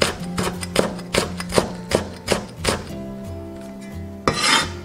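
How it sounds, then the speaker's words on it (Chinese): Kitchen knife chopping rolled scallion greens into thin shreds on a cutting board, a string of crisp, evenly spaced thuds close by, with no talking. "切成细丝。"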